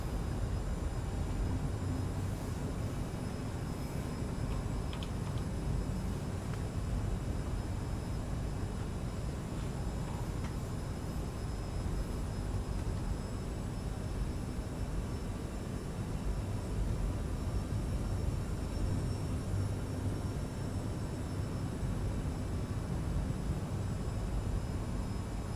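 Endeavor Air airliner cockpit on final approach into Raleigh-Durham with full flaps, a steady broadband rumble and airflow hiss dominated by low-frequency engine and wind noise, constant and unbroken with no talk.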